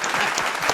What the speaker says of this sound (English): We got to clap again.